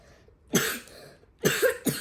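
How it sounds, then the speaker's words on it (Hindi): A child coughs three times, two close together at the start and a third a moment later after a brief gap, loud and near in a quiet indoor space. "देखो तुरंत खांस कर दिखाया इसने"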